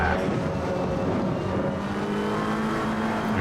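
GT3 race car engines roar at Zandvoort in a racing game, a steady loud engine drone with a rising tone as a pursuing Ferrari closes in, no talk.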